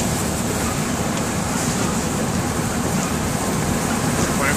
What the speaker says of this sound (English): Rain started to pick up a little bit.